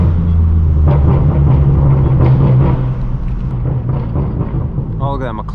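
A loud straight-piped BMW M4 F82 rumbles deep and close from the driver's seat while cruising Beverly Hills streets, droning steadily with a swell midway, a voice talking over it.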